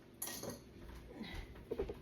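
Metal rings clinking as they are slipped off and set down on a kitchen counter while preparing meatloaf, a few light close taps with a brighter double clink near the end.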